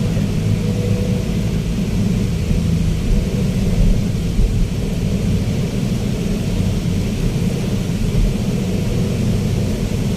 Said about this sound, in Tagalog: Yan na, lumalakas na may ulan.